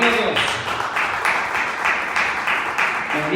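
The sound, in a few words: congregation applauding in church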